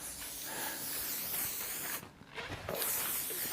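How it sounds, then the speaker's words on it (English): A steady silicone aerosol spray hisses close by onto fabric for a few seconds, with a short pause midway before the spraying resumes. "So give it a spray with some silicone."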